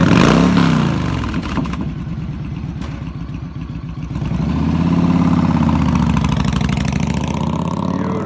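A 2010 Yamaha Stratoliner Deluxe with an 1854cc V-twin idles close by with a deep, loping rumble, then swells into a louder, steadier throb partway through, with no talking over it.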